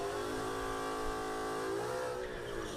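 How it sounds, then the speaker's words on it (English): A high-revving Coyote V8 in a drag racing car with a drag slick on the rear screams loud and close, holding a steady high-pitched roar before easing off near the end, with no talk. "it's a high revving motor. Boy, those things are loud"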